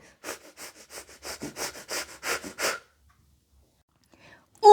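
A voice imitates a nose sniffing, a quick run of about a dozen short, close, rhythmic sniffs, then silence.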